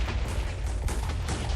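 Randomly spawned TNT blocks detonating in a Minecraft mod, a dense, continuous roar of overlapping booms and rumbling blasts with no gaps, loud and close throughout.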